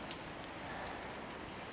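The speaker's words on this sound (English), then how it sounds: "It's starting to rain and like heck." Steady rain falls outdoors on a December night among Christmas lights, a dense, even hiss of drops close by with no pauses.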